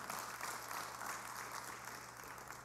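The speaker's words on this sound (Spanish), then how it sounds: "Démosle un fuerte aplauso al Señor" Church congregation applauding during a Spanish-language worship service, a steady wash of clapping heard throughout with a low hum underneath.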